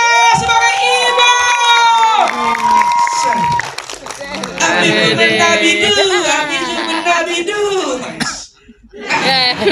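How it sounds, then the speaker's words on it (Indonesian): A press screening audience for the 1994 film Keluar Main cheers, shouts and claps loudly, with children's voices and chatter mixed in, before a brief lull and another burst. "Beri tepuk tangan yang meriah untuk Arif Brata sebagai Ibu"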